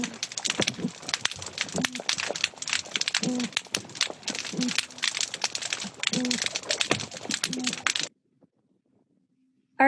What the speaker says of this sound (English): It is the oyster toadfish.